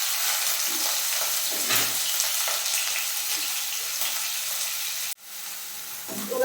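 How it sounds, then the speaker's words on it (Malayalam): Finely chopped onion frying in hot oil in a pan for a roasted-coconut squid curry, a steady close sizzle holding throughout, broken once by a sharp cut and a short stir near the end. "എണ്ണ ചൂടാകുമ്പോഴേക്കും നമുക്ക് ഒരു സവാള ചെറുതായിട്ട് കൊത്തി അരിഞ്ഞിട്ടുള്ള ഒരു സവാള നമുക്ക് ചേർത്ത് കൊടുക്കാം"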